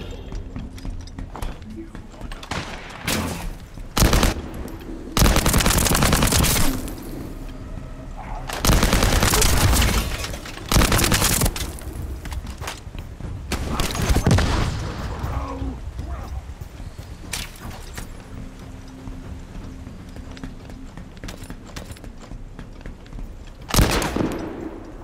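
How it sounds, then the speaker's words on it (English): Gunfire from a weapon in the video game The First Descendant, with several loud bursts of rapid automatic shots separated by quieter gaps, plus game ambience and a background hum. "this gun sounds so good"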